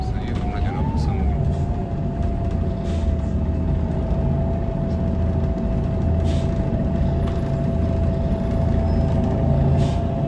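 City bus under way on a busy route, a steady low engine rumble with a sustained whining tone over it, heard from inside the cabin, continuous and fairly loud throughout, with faint voices in the background.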